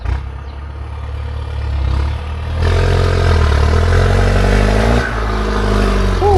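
A tractor working farmland close by, its loud mid-pitched engine chugging and rising in intensity partway through, with metallic clatter throughout and no talking.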